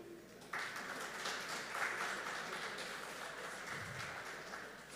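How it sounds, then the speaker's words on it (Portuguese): An audience gives a welcoming round of applause for a guest speaker at a wood-and-wine talk, a steady broad wash of clapping that starts abruptly and carries on evenly without voices over it. "Quero pedir a todos vocês uma salva de palmas para recebermos Anderson Schmidt"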